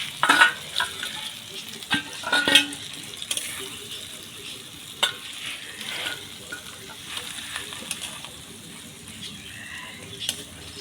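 A spoon stirs pointed gourd (potol) curry in a hot pan, scraping and clinking in irregular strokes over a low steady sizzle, close and moderately loud.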